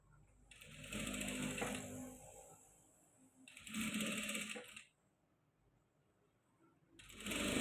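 A sewing machine stitching a blouse runs in three close bursts of rapid mechanical whirring, each a second or more long, separated by quiet pauses, with no speech.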